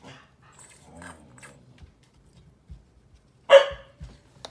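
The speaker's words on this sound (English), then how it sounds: "All done with that barking." A dog at home gives one sharp, fairly close bark after quiet whimpers and soft noises, then a smaller follow-up sound.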